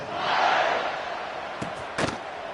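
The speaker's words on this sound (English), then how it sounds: "this crowd is feeling themselves after that last drive" Football stadium crowd at a Texas versus Kentucky game roaring after a scoring drive, a broad loud swell that fades, followed by a couple of sharp thuds.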